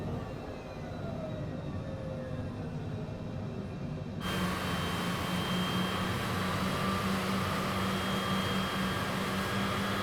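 Citation CJ4 business jet in Microsoft Flight Simulator, its engines holding a steady whining roar and then stepping up abruptly to a louder, fuller rush as the throttle advances, with no voices.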